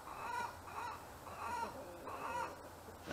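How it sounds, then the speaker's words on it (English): A chicken laying an egg keeps up a rhythmic, repeated clucking cackle, moderately near against steady background noise, with nobody speaking. "we have a chicken laying an egg"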